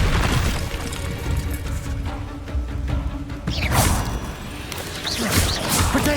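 Confringo explosion spell cast in the Hogwarts Legacy video game, a loud booming crash with whooshing bursts and sharp impacts layered over dense background game noise.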